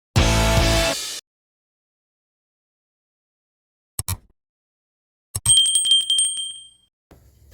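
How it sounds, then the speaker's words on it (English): A bicycle-style bell rings brightly after a brief burst of sound and a couple of clicks, a close, clear ding that fades out over about a second. "don't forget to ring that dinner bell"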